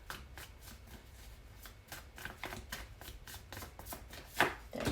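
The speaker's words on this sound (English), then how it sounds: "I don't like the way your cards are shuffling." Tarot cards being shuffled up close, a series of quick riffling bursts at an uneven rhythm, soft and without any talking.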